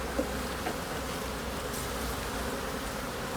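Honeybees buzzing steadily at an old beehive in early February, a continuous close droning hum without pause and no voices.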